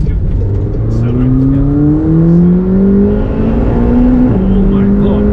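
A 2021 McLaren 720S supercar accelerating hard from inside the cabin, its engine note climbing steadily through the gears with a shift partway through, loud and close, with people talking over it.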